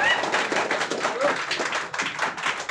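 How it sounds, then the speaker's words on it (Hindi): Audience applause welcoming a guest at an interview event, steady clapping throughout at moderate distance, with a voice speaking over it. "तो सबसे पहले आप सभी के जोरदार तालियों के बीच स्वागत करेंगे सर का।"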